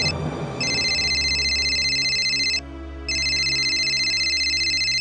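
A phone rings loudly and close with an electronic, trilling tone in two long bursts separated by a short pause.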